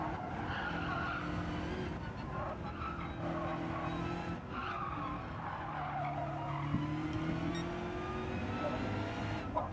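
A race car in Gran Turismo 7 online lobby racing slides off into the barrier: sustained tyre skidding and squeal over a steady engine drone, loud and continuous with a brief knock near the end, no voices.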